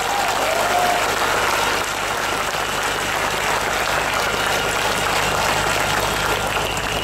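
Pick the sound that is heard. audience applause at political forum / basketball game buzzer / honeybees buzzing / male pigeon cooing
audience applause at political forum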